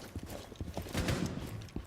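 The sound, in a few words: footsteps in the video game Rainbow Six Siege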